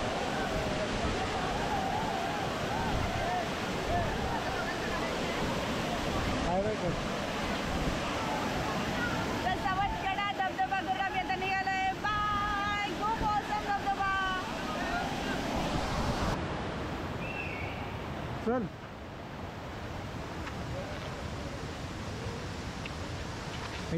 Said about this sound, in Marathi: खूप मस्त आहे हा राजापूरमधला हा सवतकडा धबधबा